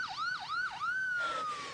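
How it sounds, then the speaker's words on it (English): In a dramatised audiobook, an ambulance siren wails in a repeating rising-and-falling pattern, then holds a long steady tone, clear and moderately loud with no voices over it. "She heard the ambulance coming in the distance"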